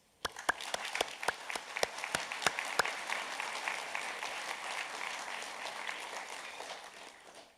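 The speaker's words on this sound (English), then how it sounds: "they richly deserve another round of applause" Graduation ceremony audience breaks into applause for graduates' families, a few sharp individual claps at first swelling quickly into broad, steady clapping from a large crowd in a hall that carries on to the end without talk.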